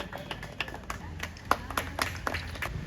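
Scattered, sparse clapping from an audience at a Mata Ramai Jayanti community programme: irregular individual claps at a moderate distance over a low background murmur.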